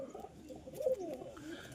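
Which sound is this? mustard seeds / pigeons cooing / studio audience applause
pigeons cooing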